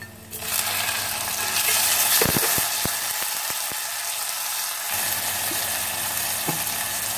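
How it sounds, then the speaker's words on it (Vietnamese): Loud frying sizzle fills the pan as tomatoes are stir-fried after fried shallots, punctuated by a quick series of scraping, clacking utensil strokes as the food is stirred. "thì mình sẽ cho cà chua và mình xào"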